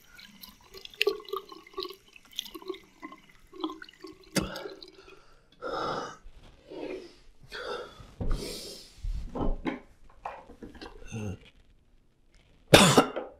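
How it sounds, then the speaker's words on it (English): A person coughing up blood in a dramatic short thriller scene lets out several harsh, separated coughs and throat-clearing bursts at close range, with dripping water and quiet gaps between them and a final loud hack. "I'm in here coughing up blood"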